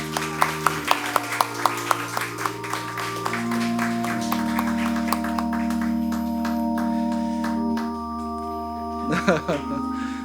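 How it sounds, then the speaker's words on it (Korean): Scattered claps open in a church during a flower presentation at an ordination service, spreading into a steady round of congregational applause over sustained organ or keyboard tones, ending in a brief louder flurry. "우리 큰 박수로 우리 축하해 주시기 바랍니다"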